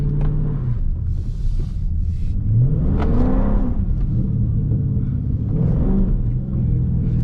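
Dodge Scat Pack car engine revving while drifting on a wet road in the rain, a loud continuous rumble that rises in pitch as the throttle opens in second gear, then drops and climbs again near the end.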